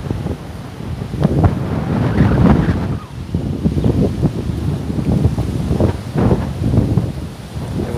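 Ocean waves and wind at a surf beach with surfers in the water, a continuous rumbling wash of surf with gusty buffeting wind across the microphone, no talk.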